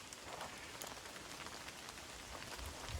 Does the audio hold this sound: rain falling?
yes